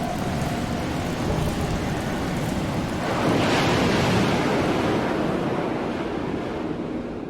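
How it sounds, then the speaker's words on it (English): Ocean surf, wind and rain from the video game Old City Leviathan form a steady, dense wash of noise that swells louder partway through, with no voices. "Ocean, water, wind, rain."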